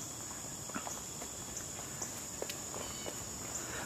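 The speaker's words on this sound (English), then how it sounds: "Walk up the front pathway into the front door here." Footsteps on a front pathway leading to a house door, light scattered steps at an even walking pace over a constant outdoor hiss with insect-like high buzzing.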